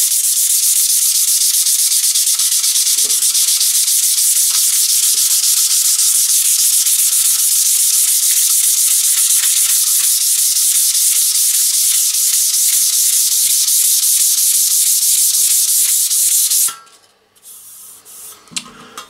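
A new trowel being rubbed down to smooth it, giving a loud, steady abrasive scraping that runs continuously for about sixteen seconds before stopping abruptly, leaving only faint handling noise.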